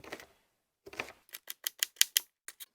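A knife dices vegetables on a cutting board in a home kitchen, with a burst of quick, sharp chops in an irregular rhythm, close and fairly quiet, with no talking.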